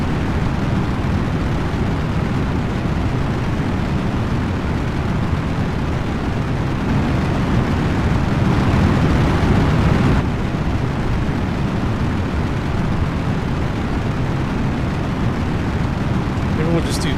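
Rocket engines in Kerbal Space Program roar at takeoff with a continuous, heavy broadband rumble that stays steady throughout, with a voice faintly present under it.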